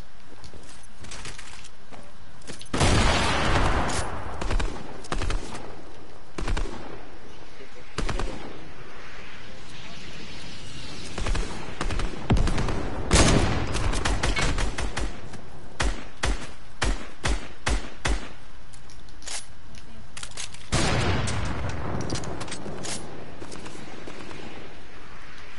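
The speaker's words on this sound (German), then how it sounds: "Schieß mal den Baum weg, schieß den Baum weg!" Repeated video game gunfire aimed at a tree, bursts of rapid shots recurring through the clip, loud and near, with excited voices in a stream over the shooting.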